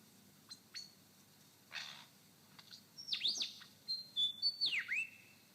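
Lyrebird imitating a pilot bird in forest: a few faint clicks and soft notes, then a run of loud, clear whistled calls with sharp sweeping phrases, repeated several times in the second half.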